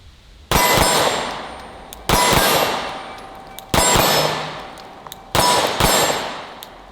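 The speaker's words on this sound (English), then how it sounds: "let's try some double taps as fast as we can" Four quick pairs of pistol double taps ring out in a steady rhythm, each pair of shots followed by loud metallic clangs off steel targets that ring and decay before the next pair.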